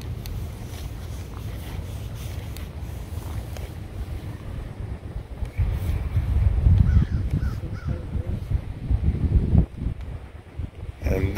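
Strong wind roars and buffets across a cemetery in a continuous low rumble that gusts louder midway and near the end, with faint crow caws carrying through and no speech.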